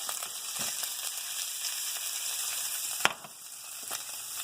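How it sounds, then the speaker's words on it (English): Steak sizzles steadily in hot browned butter in a pan, a dense, bright crackling hiss that runs throughout, with a single clunk of the pan partway through. "Then we're going to toss in our steak. Get that heating up."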